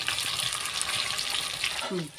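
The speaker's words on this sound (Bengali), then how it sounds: "প্রথমে ইলিশ মাছ ভেজে নিচ্ছে" Hilsa fish fries in oil in a pan, a steady moderate sizzle and crackle, with a brief voice-like sound near the end.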